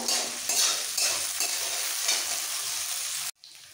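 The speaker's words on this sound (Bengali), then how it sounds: "এবার পেঁয়াজটাকে একটু হালকা ভাজবো।" Onion fries lightly in a pan for pav bhaji with a bright, steady sizzle and a few stirring scrapes, then cuts off abruptly to a much quieter hiss near the end.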